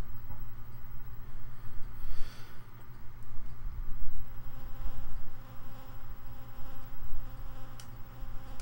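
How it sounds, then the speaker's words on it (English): Killer bees buzz in a PC Engine video game, a steady droning hum with a few louder swells over several seconds. "Killer bees."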